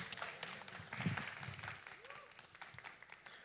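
An audience at an iQOO product launch event claps steadily, with the applause swelling and then thinning out in a large hall. A voice speaks over it.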